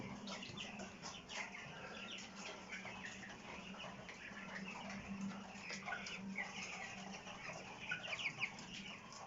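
Several broiler chickens cluck and murmur softly at a low level, a continuous barnyard chatter with a few louder calls near the end.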